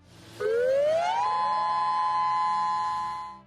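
An alert siren blares close and loud, sweeping upward in pitch for about a second before holding a steady tone, then fading at the end.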